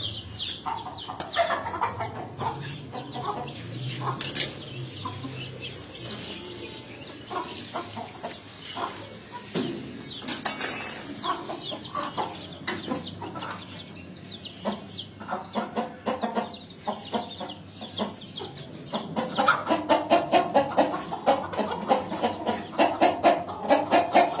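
Chickens cluck and call repeatedly close by, two white roosters among them with a hen, a busy and irregular stream of fowl sounds over faint background noise.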